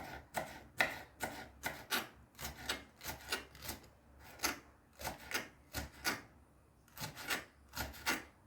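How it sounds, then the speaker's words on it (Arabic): A knife mincing pepper on a cutting board in a home kitchen, quiet rhythmic chopping strokes in quick irregular bursts, close and alone. "والفلفل بدي افرمه كمان."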